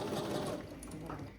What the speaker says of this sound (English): Oh, the vacuum's done. It just took itself to home base, and that's what that noise is.